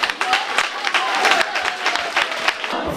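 Audience at a school gathering in Togo applauding the director, a dense run of sharp, loud claps over steady crowd noise with some voices mixed in.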